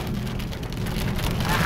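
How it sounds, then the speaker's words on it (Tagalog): Steady rain patters densely on a surface, with a low rumbling undertone, continuous and fairly close, with no voices heard. "Umuulan naman ngayon mga gor."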